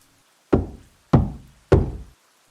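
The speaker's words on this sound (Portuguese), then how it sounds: "Outras batidas, dessa vez bem mais fortes." Three firm knocks on a door, evenly spaced about half a second apart, each a sharp, loud thud with a short ring, alone in near silence.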